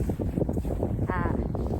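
Cold winter wind blows over a snowy sea of mist on a mountain, buffeting the microphone with a loud, steady roaring rumble and gusty flutter that covers the whole stretch.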